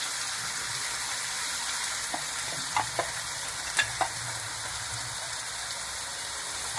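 Ground masala paste of tomato, dry and fresh coconut, chilli and coriander roasting in a pan for chana masala, giving a steady low sizzle with a few faint scrapes of stirring scattered through it.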